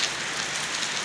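Steady rain falls outside a house, a continuous even hiss of drops on surfaces with no talk or other sounds over it.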